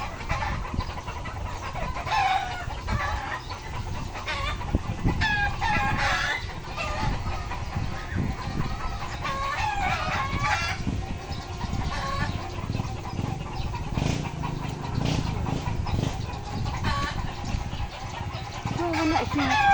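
Chickens cluck steadily and a rooster crows several times, the farmyard chorus loud and continuous throughout, with a few brief voices talking in the background.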